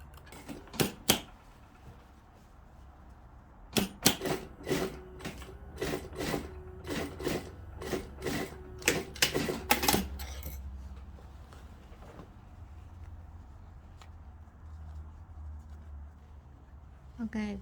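A sewing machine stitches close along the waist seam of women's dress pants in quick rattling bursts, one short run and then a longer stretch of rapid stitching. A low hum follows once it stops.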